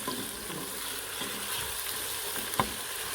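Onions fry and brown for a mutton korma, a constant low sizzle with a few light spoon scrapes and a sharp clink near the end, close and quiet.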